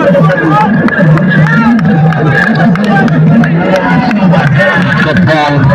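Dense crowd noise at the Padibal Premier League grand final cricket match between Bamnoo and Mashwara, a steady roar of babble and cheering throughout with voices mixed in.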